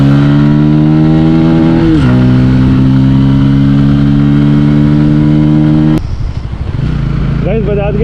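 A Bajaj Pulsar P150 motorcycle accelerates hard up through the gears, its engine note climbing and then dropping at each shift, loud and close, with a sharp break near the end before the engine pulls again.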